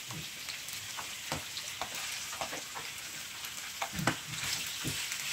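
Hoisin-marinated supermarket pork stir fry sizzles in a hot pan with garlic and onion. A steady, bright hiss runs throughout, broken by sharp spatula scrapes and clicks of stirring.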